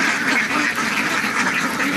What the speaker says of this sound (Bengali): সব দেশি হাঁস